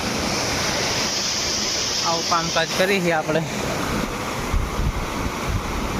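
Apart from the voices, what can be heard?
Narmada canal water flowing continuously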